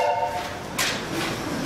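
Passing train with a brief horn-like tone at the start, then a steady rumble, plus a sharp hiss burst partway through.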